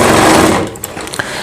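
A sewing machine stitches a seam joining two pieces of a Rajputi suit, laid right sides together. It gives a loud, steady whir for about half a second, then stops, leaving a few faint clicks.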